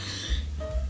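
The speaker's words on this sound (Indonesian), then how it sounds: "Ntar aku mendadak batuk soalnya tiba-tiba bau asap gitu loh teman-teman" A single short cough bursts out at the very end after near-silence, triggered by a sudden smell of smoke while someone sews a batik teacher's uniform dress indoors.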